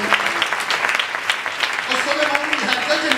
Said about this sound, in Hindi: जोरदार तालियां बजा सकते अपने